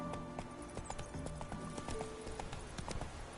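Roach the horse's hooves clip-clop steadily in The Witcher 3, a rapid run of close, even hoofbeats over a constant game ambience, with no talk over them.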